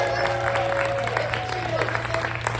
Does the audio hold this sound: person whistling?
no